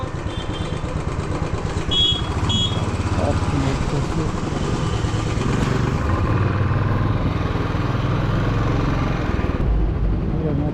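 A Royal Enfield motorcycle is ridden toward bike parking at the Komaticheruvu adventure park in Siddipet. Its engine rumbles steadily close by the whole time, with someone talking over it.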